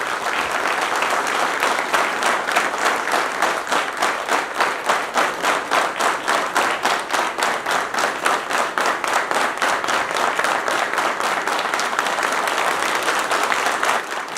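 Sustained applause from a large crowd at a Hindu festival in Goa, steady and dense with rhythmic clapping throughout, loud and close, no talking.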